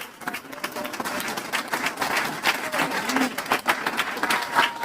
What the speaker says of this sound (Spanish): Den un aplauso al Señor fuerte.